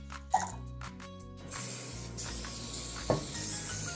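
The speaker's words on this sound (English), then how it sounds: "Shorne, can you use the spray and cook and just grease this container for me?" A cooking spray hisses in a sustained burst after some background music and a few clicks, with another short spurt following.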